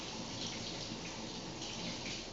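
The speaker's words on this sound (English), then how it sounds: "Let me wash my hands right quick." Hands washed under a running kitchen tap, a steady close rush of water splashing without a break.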